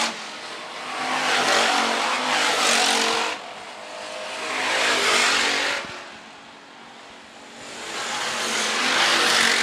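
IMCA Hobby Stock race cars run single file in a feature on a dirt track at Phillips County Raceway, engines swelling loudly as each pass nears and then fading, in repeated waves.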